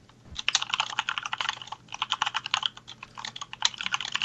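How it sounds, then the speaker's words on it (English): Rapid, uneven keystrokes clatter on a computer keyboard, up close and steady in short bursts with no talking. "That's me typing."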